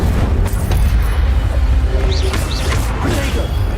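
A Hogwarts Legacy Incendio fire spell roars in a dense, loud whooshing burst that fills the whole moment, with a faint voice in the mix.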